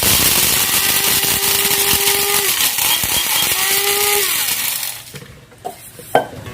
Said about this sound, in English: We're going to take some fresh peppercorn, grind that.